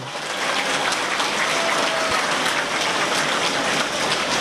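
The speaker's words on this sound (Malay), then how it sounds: "Satu tepukan kepada guru-guru tahun 6." Applause from a school audience for Year 6 teachers at the announcement of UPSR 2012 results, a dense hiss of many hands clapping at an even level throughout, with no speech.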